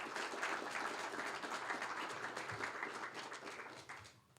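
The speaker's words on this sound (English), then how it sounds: "So please, a nice round of applause for all our student volunteers." An audience at a regional idea pitch competition claps for the student volunteers, a steady broad wash of applause that holds and then tapers off near the end.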